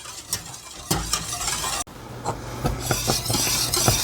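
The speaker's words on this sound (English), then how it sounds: "I'm going to go ahead and stir this up" Spoon stirring butterscotch pudding in a pot over medium heat, with soft scraping strokes and faint clinks repeating at a steady pace, close by and fairly quiet.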